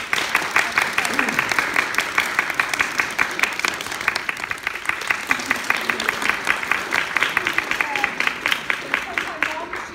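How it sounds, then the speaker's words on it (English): Audience at a college certificate awards ceremony claps steadily for about ten seconds, rhythmic and moderately loud, with faint voices beneath the clapping. "applause"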